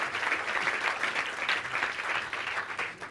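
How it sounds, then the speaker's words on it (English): An audience at a nature and collaboration conference session gives three speakers a steady, dense burst of applause, moderately loud and continuous with no voices over it. "a big applause for the 3 speakers"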